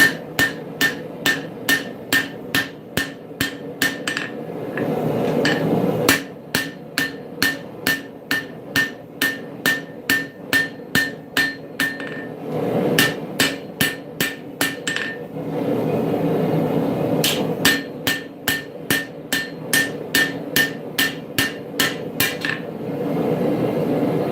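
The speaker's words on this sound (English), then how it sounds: "That's what we have hammers for." Steel hammer blows on a Bowie knife blade at a smithing anvil, loud ringing metallic strikes in fast rhythmic bursts separated by short pauses, with no talking.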